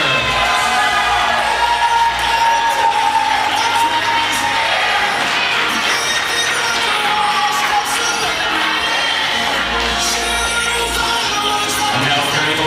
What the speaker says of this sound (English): Let's have a nice round of applause for the maid of honor